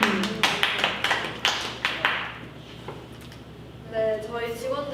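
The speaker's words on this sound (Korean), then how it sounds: "박수." A small group claps briskly in a quick burst during a tripleS livestream studio skit, then the claps fade and a voice speaks.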